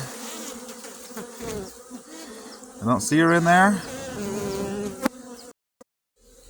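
A steady drone of many honey bees buzzing up close as a sample is shaken into a cup for a varroa mite test, with a person speaking briefly over the humming swarm.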